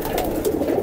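Tilka highflyer pigeon cooing close by, a soft, low, throaty coo rolling on steadily for under a second.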